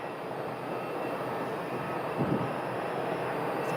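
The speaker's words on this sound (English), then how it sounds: "This A321neo is headed to Miami." An Airbus A321neo airliner at an airport rumbles with a steady broadband engine roar and a faint high whine, constant and moderately distant throughout.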